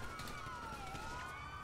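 Police car siren in the GTA V video game, a steady wailing tone sweeping up and down across the clip over game background noise, loud and continuous with no talk.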